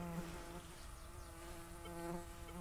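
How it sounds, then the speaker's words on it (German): Mosquitoes swarming around people searching with a metal detector at an old wartime site outdoors, a steady thin high whine with several overlapping buzzing tones, close and continuous throughout. "Die Mücken fressen uns gerade auf."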